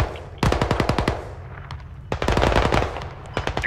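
Loud, close bursts of automatic machine gun fire in the Squad military shooter game, two long rapid volleys with a brief lull between them and another short burst at the end.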